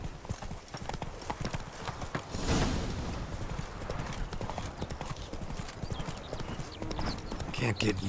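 Hooves of the horse Roach clip-clop at a steady gallop in The Witcher 3: Blood and Wine, close and continuous, with voices talking over them and a neigh late on.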